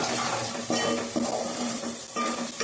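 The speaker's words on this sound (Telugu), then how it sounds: "కరివేపాకు వేసి బాగా ఫ్రై చేయాలి" Curry leaves frying in a pan for egg fried rice, a steady near sizzle with repeated stirring scrapes and light metal clinks of a spoon against the pan.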